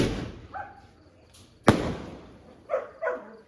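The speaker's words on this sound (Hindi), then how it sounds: "बहुत सारे पटाखे भाई" Firecrackers go off: one sharp, loud crack, then a few softer pops a little farther off, with quiet gaps between.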